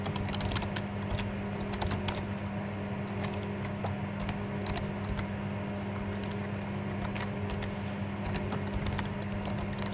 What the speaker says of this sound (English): I'm just going to type that in